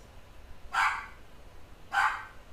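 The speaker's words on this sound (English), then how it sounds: "That's my dog Lucy" A dog barks twice indoors, two short separate woofs about a second apart, moderately loud against a quiet background, with no talking.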